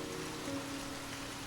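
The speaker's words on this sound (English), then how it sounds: "The sound of the rain was soothing, a steady rhythm that filled the air." Gentle rain falls in a steady, even hiss, soft and unbroken, with no voices over it.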